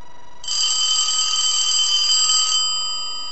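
An old telephone's bell rings loudly and steadily as it is being repaired, starting suddenly after a short pause, sustaining for about two seconds, then cutting off into a faint fading tail.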